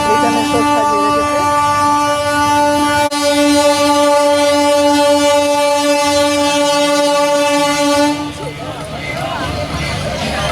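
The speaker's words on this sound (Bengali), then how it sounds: "ট্রেন যাচ্ছে, এখানে বসে আছি আমরা।" A train passes near Babughat on the Ganga in Kolkata, its loud, steady horn sounding close for about eight seconds before fading into the rumble of carriages and riverside background noise.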